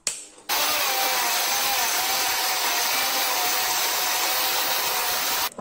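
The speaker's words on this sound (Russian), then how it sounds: "теперь включаем УШМ и пилим" An angle grinder whines loudly and steadily as it cuts into an aerated concrete block, a constant high grinding roar that starts abruptly and stops at the end.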